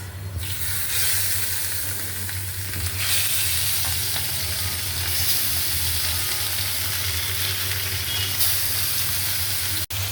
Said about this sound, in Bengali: মাছটা ভাজার জন্য তো আমি দিয়ে দিলাম রুই মাছ